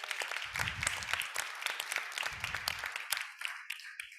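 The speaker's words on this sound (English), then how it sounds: "I think we should do a quick round of applause for our speakers" An audience claps for panel speakers at a World Water Week session, a brisk round of applause that thins out and fades toward the end, with a few lingering claps.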